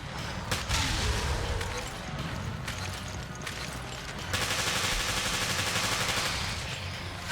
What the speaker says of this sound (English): You could hear the fishman take a swing while Jessica was still shooting